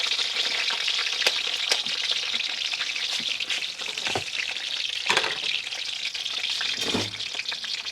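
Eggplant frying in hot oil for a countryside breakfast, a dense continuous crackling sizzle close up, with scattered pops and a couple of clinks from utensils, no talk.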